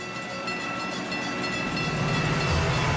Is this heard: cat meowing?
no